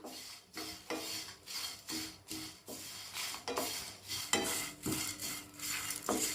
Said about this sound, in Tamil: கருவேப்பிலையும் போட்டு நல்லா ரோஸ்ட் பண்ணிக்கலாம்